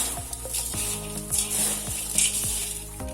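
A spoon stirs khara mixture, a crunchy karasev snack, in a pan, giving a steady run of rhythmic scraping strokes over a soft sizzle, close and fairly loud, with no voices.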